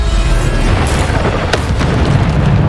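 A Bombarda spell going off in Hogwarts Legacy, one loud booming blast that rumbles and crackles for the whole moment.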